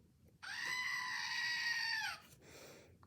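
A pet goat lets out one long, loud, strained scream lasting nearly two seconds, followed by a shorter, weaker bleat, alone and close.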